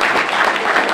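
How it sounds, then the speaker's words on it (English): A crowd at an NAACP Martin Luther King Jr. breakfast gives a dense, continuous round of applause, loud and steady throughout the brief moment. "why don't we give her a hand clap as well?"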